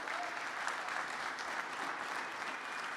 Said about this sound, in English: So please give all 6 of those teams a big round of applause.